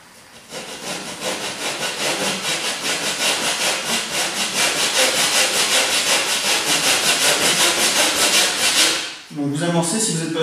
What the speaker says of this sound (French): Du coup, c'est parti pour la découpe.